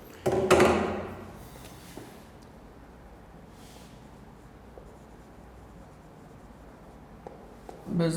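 Chalk or marker scratches against a classroom board in a short loud burst near the start, then a long stretch of quiet room tone with faint background noise, and another brief knock or scrape at the very end.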